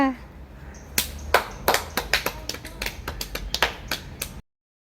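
A burst of hand clapping, a dozen or so sharp claps in quick uneven rhythm, close by, then sudden silence.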